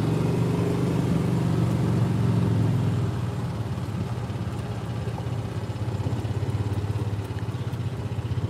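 A golf cart in The Villages, Florida drives with a steady, low engine drone and a faint rattle throughout, loud and continuous with no voices.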